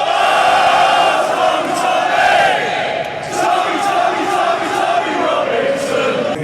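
A dense crowd at a street protest in England makes a steady, loud roar of many voices, with scattered shouts rising above the constant murmur, heard from within the crowd.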